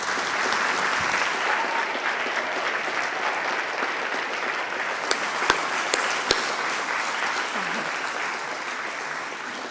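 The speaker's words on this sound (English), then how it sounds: "I'm glad you've given them a big round of applause" Sustained applause from an audience at a school open evening, honoring 11-year-old students; steady, even clapping fills the room, with a few sharp louder claps standing out near the end.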